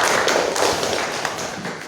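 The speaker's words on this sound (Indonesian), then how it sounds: "Beri aplaus untuk semua kelompok." A classroom of students applauds all the groups, a dense patter of many hands clapping together that fades gradually over two seconds, heard up close without speech.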